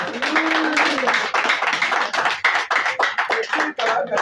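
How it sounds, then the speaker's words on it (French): An audience at a PDG party meeting in Libreville's 2nd arrondissement claps in steady overlapping bursts of hand strikes, loud and close, with voices and cheering mixed in. "J'espère que vous allez applaudir pour lui quand même"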